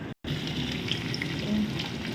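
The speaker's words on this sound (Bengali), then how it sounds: "এবার আমি কাঁচা কলাটার মধ্যে দিয়ে দিলাম" Raw banana pieces added to lightly fried vegetables in a wok, giving a steady close sizzle and crackle of frying that runs on continuously after a brief cut at the start.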